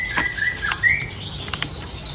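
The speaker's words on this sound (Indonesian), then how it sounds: "Diselingi sama si Anis Teler" An anis (thrush) songbird chirps in quick, bright bursts, several short tweets repeating close by over a steady background hiss, with no talking.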